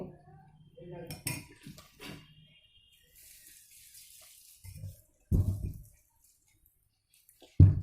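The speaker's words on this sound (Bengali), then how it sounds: "দেখুন বাকি পাপড়গুলোও আমি একইভাবে থালার উপরে দিয়ে নেব" Papads are set down one by one onto a metal plate, giving light clinks and rattles with a few sharper knocks, close and fairly faint, in a quiet kitchen with a voice speaking briefly.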